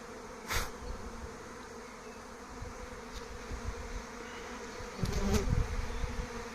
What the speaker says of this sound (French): je suis vraiment au milieu du nuage d'abeilles